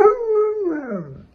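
Dog howling in a meme clip, one loud drawn-out wail that holds steady and then bends downward into a whimpering fall, close and clear with nothing else around it.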